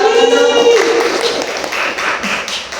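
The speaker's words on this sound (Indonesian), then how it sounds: "Oke, kami tepuk tangan dulu buat" Classroom students clap together at a microteaching session, a brief spell of close, dense clapping and tapping that fades, with a little talk at the start.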